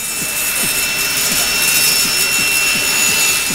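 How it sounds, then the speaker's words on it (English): A table saw cutting plywood with the blade set at an angle, a loud continuous whine with a repeated rhythmic rasp as the wood feeds through, and no voices. "So we're going to use a table saw with the angle set."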